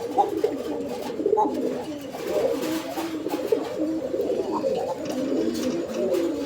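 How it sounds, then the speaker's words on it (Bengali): A male pigeon coos steadily and close up beside a female, a continuous low throaty rolling murmur with no pauses. "এই যে দেখেন মাদি একটা দেওয়া হয়েছে ওর ডাক দেখানোর জন্য"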